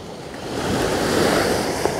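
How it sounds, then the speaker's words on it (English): Conwy river in full flood near high tide, a steady broadband rush of fast water and surf-like wash with wind buffeting the microphone, loud and continuous throughout with no voices. "So this is Conwy's river and it's full flood."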